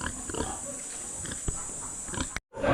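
Boars (male pigs) on a Philippine farm grunt and snuffle close by in a steady stream of low oinks, with one sharper grunt partway through and a brief pause near the end.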